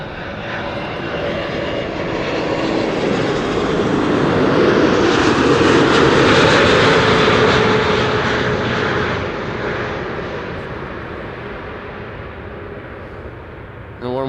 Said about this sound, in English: KLM flight 618 arriving from Boston, Massachusetts, 777-200